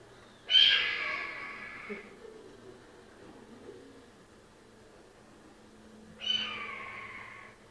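Two raspy, descending screams of a red-tailed hawk, loud and clear, separated by a few seconds of quiet background.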